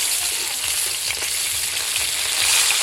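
Fish sizzling and crackling as it fries in hot oil in a pan, a steady bright hiss with small pops, close up and continuous, no talking.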